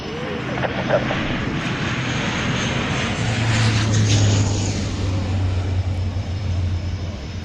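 An aircraft at the Royal International Air Tattoo airshow drones overhead, a broad engine roar that swells and lingers while people talk nearby.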